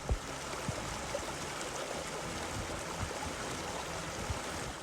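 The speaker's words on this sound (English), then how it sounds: "prepared to hear this absolutely beautiful waterfall all" Waterfall at Trout Creek makes a steady, dense rushing roar of falling water, even and unbroken throughout, with no voices.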